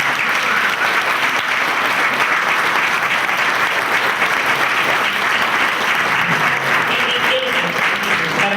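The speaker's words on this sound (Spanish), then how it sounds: "Un aplauso, por favor." Sustained, dense applause from an audience at an award ceremony, loud and steady throughout with no pauses, a faint voice surfacing near the end.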